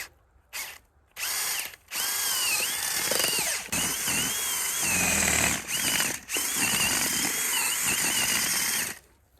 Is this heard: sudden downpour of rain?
no